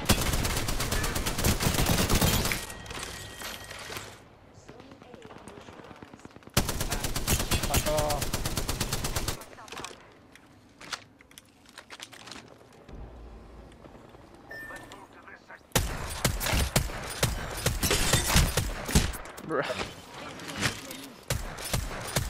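Loud bursts of Kraber sniper rifle fire in Apex Legends come in three dense blocks, near the start, middle and end, with talk and quieter game noise between them.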